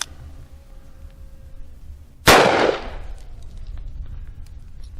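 A single loud gunshot from a Bond Arms .45 Colt / .410 Texas Defender derringer-style pistol, sharp and close, with a broad burst that decays over about half a second against low background noise.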